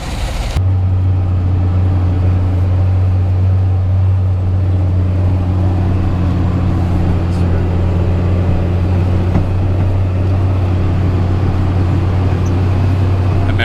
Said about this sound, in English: we'll watch them zoom out with a big three-wheeler